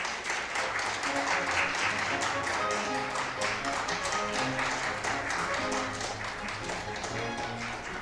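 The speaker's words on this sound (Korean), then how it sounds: "모두 큰 박수로 환영해 주시기 바랍니다." A seminar audience claps continuously to welcome a keynote speaker, a dense patter of applause that holds steady and fades slightly toward the end.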